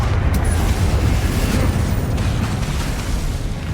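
Confringo blasting curse exploding in Hogwarts Legacy combat, a dense, continuous roar of booming blasts and crackling debris, loud and close, slowly easing toward the end.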